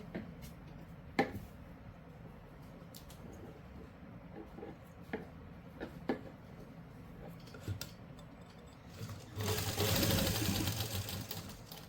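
A sewing machine stitches a seam on a simple suit, with scattered ticks and clicks of handling before a close, brief burst of rapid mechanical running near the end; no one speaks.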